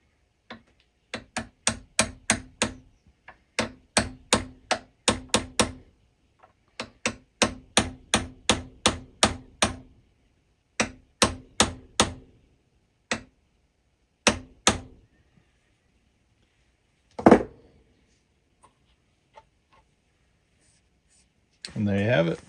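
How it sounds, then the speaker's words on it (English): Brass punch struck with a hammer to drift the front sight into an M&P Shield handgun, sharp metallic taps in quick bursts of several blows separated by short pauses, close and clear, with occasional talk. "we're going to go ahead and slide this front sight in now. Use a brass punch,"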